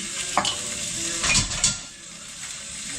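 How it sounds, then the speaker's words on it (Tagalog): Onion and garlic fry in a pan with a bright, hissing sizzle, while a utensil stirs and scrapes against the metal in a few short bursts before the sizzle settles back. "lutuin muna natin ng kasdap itong part ng onion tsaka garlic"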